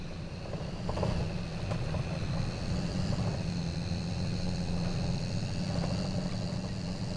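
Farm tractor with front wheel assist driving, a steady low engine drone holding constant and fairly loud throughout with no talk over it.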